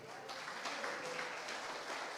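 A church congregation breaks into sustained applause, a dense steady clatter of clapping hands that fills the whole span without pause, with no voices rising above it.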